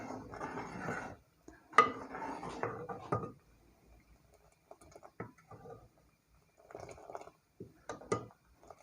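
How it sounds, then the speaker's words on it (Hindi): A metal spoon scrapes and clinks against a pot while kheer is stirred, giving faint, intermittent rubbing and tapping sounds that are close and quiet, with pauses in between. "अब हम इसको तो चम्मच को हिलाएंगे इससे।"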